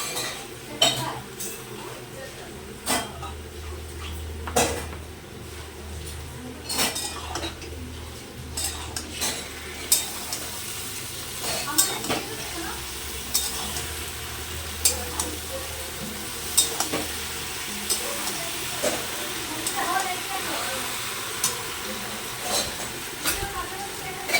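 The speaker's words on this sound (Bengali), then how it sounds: "একটু পোস্তটা দিয়ে একটু ভেজে নেব।" Potatoes frying in a pan with a paste of ground poppy seeds and green chili for vegetarian aloo posto, with a constant sizzle broken by sharp utensil clinks and scrapes against the pan, close up, and occasional speech.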